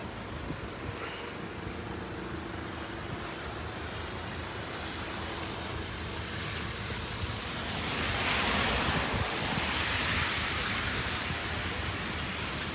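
Pouring rain and wind lash the port at Dover in a constant outdoor roar, swelling briefly louder near the end.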